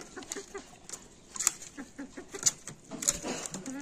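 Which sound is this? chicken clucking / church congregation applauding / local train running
chicken clucking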